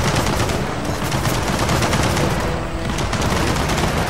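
Sustained machine gun nest fire in Gears of War 4, a dense, loud and unbroken rattle of rapid shots lasting the whole stretch with no pauses.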